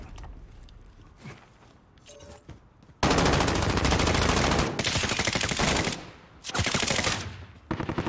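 Rapid automatic gunfire in a hardcore Call of Duty match, with long loud bursts after a quieter opening of scattered clicks and movement, broken by short pauses.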